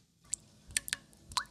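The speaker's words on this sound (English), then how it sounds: "Where's that drip?" Water drips in a handful of small, sharp plops spread over a second or so, close by and fairly quiet, with no one speaking.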